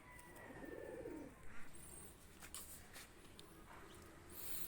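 Pakistani high flyer pigeons giving a soft, low cooing call near the start, then faint chirps and light rustling, quiet and close with no talk.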